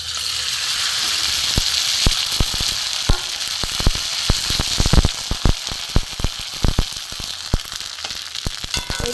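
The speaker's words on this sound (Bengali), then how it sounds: "এইভাবে আমি সবকটা ভেজে নেব" Sun-dried sago papad crackles and sizzles in hot frying oil, a steady hiss broken by frequent sharp popping bursts, fairly close and loud, with no one speaking.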